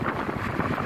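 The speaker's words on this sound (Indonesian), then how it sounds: "anginnya ini seperti angin laut gitu loh, kenceng banget" Strong wind blows in Samarinda, buffeting the microphone with a loud, continuous, rumbling roar throughout the short moment, with no speech.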